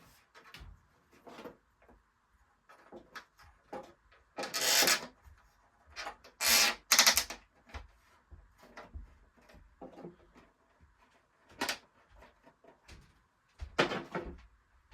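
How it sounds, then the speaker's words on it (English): Small plastic clicks, scrapes and rubbing as a latch is pushed into a hole under the trap door of a vintage Italian-made Snake Mountain toy playset, in close, intermittent bursts separated by quiet pauses. "Next, I need to put in the latch, which just goes in a little hole here on the bottom of the trap door."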